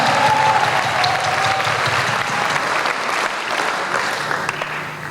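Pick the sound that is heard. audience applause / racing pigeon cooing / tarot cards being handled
audience applause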